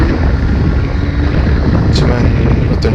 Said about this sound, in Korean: 이런 바람 소리만 들어보더라도 바이크가 상당히 좀 바람을 가르면서 달린다 그럴까요?